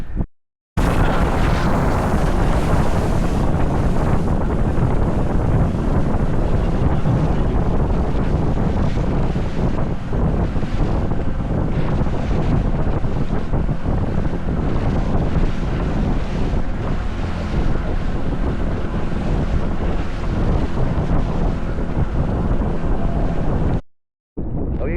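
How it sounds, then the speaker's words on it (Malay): Strong, gusting wind buffets the microphone on a fishing boat out on rough water, a loud continuous roar with waves sloshing and slapping against the hull throughout, with no voices heard. "Cuma angin terlalu kuat, ombak pun boleh tahan lah."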